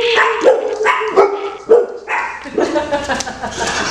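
A neighborhood dog barks loudly and close, several sharp yelps and woofs in quick succession, each bark tailing into a whining tone.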